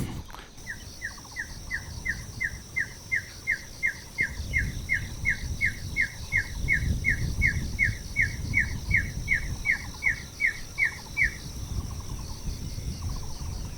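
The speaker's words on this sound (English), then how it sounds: "Another bird." A bird calls outdoors on a mountainside in the early morning, a steady series of about thirty rapid, evenly spaced high chirps, moderately distant over faint background hum and wind.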